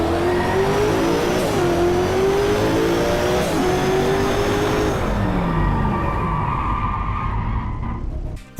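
A race car in the DriveClub driving game roars at high revs, its muffled engine and exhaust note rising and falling through gear shifts, with tires squealing in skids. The roar eases off near the end, then cuts out.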